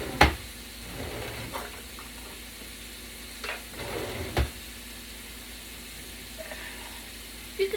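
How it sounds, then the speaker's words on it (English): About a pound of ground beef frying in a pan, with a low steady sizzle broken by a few sharp scraping and clattering stirs, close and moderately quiet, with no voices. "I'm gonna fry that up real quick."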